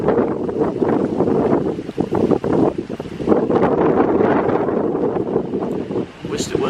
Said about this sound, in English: Wished it wasn't so windy.